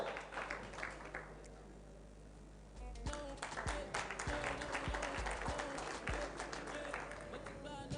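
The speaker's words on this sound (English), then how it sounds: "Once again, a hand of applause, ladies and gentlemen, to Katlego." At a university challenge award ceremony, an audience claps for a winner: faint, distant applause that swells after a quiet start and continues steadily, with low hum and some background voices.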